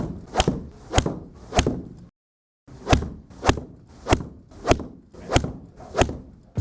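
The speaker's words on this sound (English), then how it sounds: "that is the sound of this club" A PING i230 golf iron striking balls, ten sharp crisp impacts in a steady rhythm with a short silent break after the third, each strike clean and loud with no talking.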